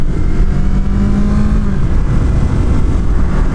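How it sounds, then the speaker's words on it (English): A Yamaha R3 parallel-twin motorcycle engine revs loudly and close during a U-turn, a steady throaty drone with a brief rising pitch early on before settling, and no voices. "Parallel twins, these little ones, usually sound pretty cool."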